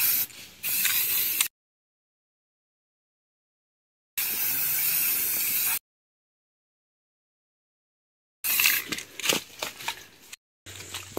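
An aerosol can sprays marker paint during a land relocation survey, giving two sustained hissing bursts of a second or two each with silence between, then some shorter clattering and rattling sounds.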